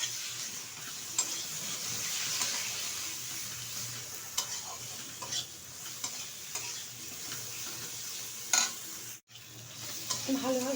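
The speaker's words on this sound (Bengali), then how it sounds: "এখন দিয়ে দেবো 1 চামচ আদা বাটা, 1 চামচ রসুন বাটা। আবার একটু কষিয়ে নেব।" Ginger and garlic paste sizzles and fries with spices in hot oil for mutton cooked Bihari style, a steady soft crackle broken by occasional scrapes and taps of a spoon stirring in the pan.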